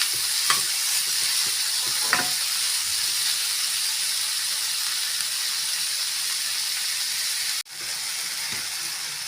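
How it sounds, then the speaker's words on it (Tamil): Chopped tomatoes stirred into a masala for paneer ghee masala, a loud steady sizzle and hiss filling the pan with a few faint scrapes of the spoon and an abrupt brief dip near the end. "இப்போ நம்ம கட் பண்ண தக்காளி சேர்த்துக்கலாம்"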